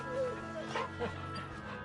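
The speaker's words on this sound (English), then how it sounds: "I keep forgetting the pre-mission dog pet." A dog in Final Fantasy XVI gives soft, yippy barks and whimpers as it is petted, a few short calls over a steady game music bed.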